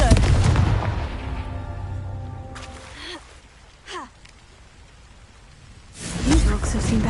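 Confringo fire spell blasting apart rocks near a crumbling tower in Hogwarts Legacy, a heavy booming burst at the start, a few sharp crackling snaps midway, and another loud blast at the end over a rumbling background.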